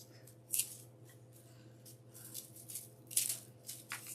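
Scissors snip through deco mesh greenery in quick, close, crisp cuts, a handful of sharp clicks and rustles over a quiet hum.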